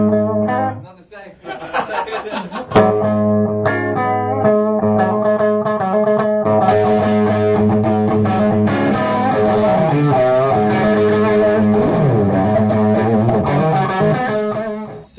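Distorted electric guitar through a Tonebox Skull Crusher distortion pedal, playing sustained chords and riffs, thick and saturated, loud and continuous after a brief pause near the start.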